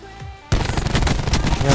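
Rapid gunfire in a video game crackles out in a loud burst of overlapping shots, following a brief quieter moment.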